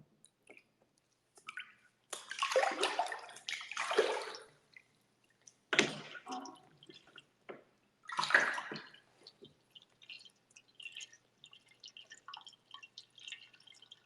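Water sloshes and splashes in a bathtub in several irregular bursts of movement, with drips and small trickles between them, close and fairly quiet.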